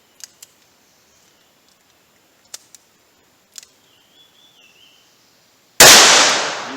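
A single loud, sharp gunshot from a .38 Special revolver with a 4-inch barrel firing HTP ammunition bursts out near the end after several faint clicks and handling noises.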